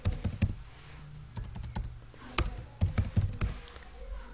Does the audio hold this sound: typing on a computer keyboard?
yes